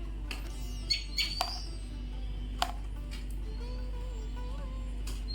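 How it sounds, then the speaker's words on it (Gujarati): A house sparrow gives a few short, bright chirps close by over a constant low hum, then falls mostly quiet. "આ છે દેવ ચકલી, જો રે કલકલ કરતી"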